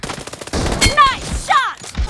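Gunshots in a shooting video game, a few sharp loud bursts close together with whooshing effects between them, over game sounds and brief voice-like calls.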